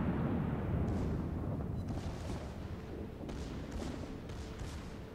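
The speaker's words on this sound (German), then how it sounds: "Sekundäre wieder am Ballern." The Scharnhorst's secondary battery guns fire in World of Warships, a string of deep, muffled booms rolling under steady low naval rumble, with no voices.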